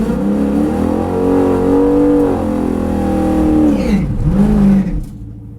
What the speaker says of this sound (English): I didn't like that burnout.